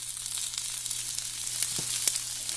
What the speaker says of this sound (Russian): Стручки фасоли обжариваем до того состояния, пока они станут мягкими.